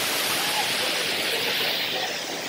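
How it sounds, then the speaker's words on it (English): A waterfall fountain show in Las Vegas pours water in a constant, broad rushing roar, steady and fairly close, with no voices over it. "this is where the little waterfall show is"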